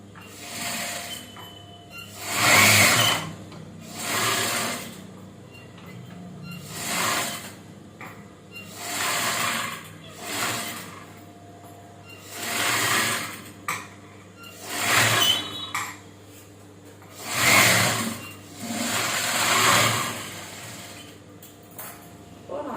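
A sewing machine stitches a maxi-style nighty in short repeated bursts, about nine whirring runs separated by brief pauses, close and clear with no talking.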